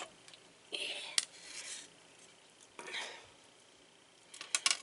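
Chicken, broccoli and pasta salad mixed with utensils in a bowl, close scraping and clinking of metal against dishware in a few short bursts with quiet pauses between.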